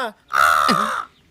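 A single drawn-out nasal "caw" from a human voice imitating a crow, loud and close, lasting under a second with silence on either side.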